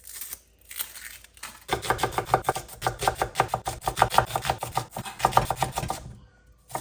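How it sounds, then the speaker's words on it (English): Two onions being roughly chopped with a knife on a board, a fast run of sharp, regular cuts close to the microphone, opened by a few scattered knocks and ending abruptly. "I'm going to start with 2 onions and I'm just going to roughly chop it"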